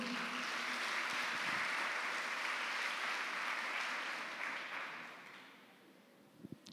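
A church congregation applauds during a worship service, broad sustained clapping that holds steady and then fades away toward the end, ending with a few scattered sounds.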